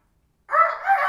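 A person imitates a rooster crowing, a single short, loud, close cock-a-doodle call that starts abruptly after a moment of silence.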